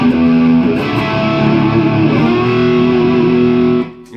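A guitar plays through a distorted multi-effects unit preset, with sustained chords ringing loud and steady for about four seconds before cutting off.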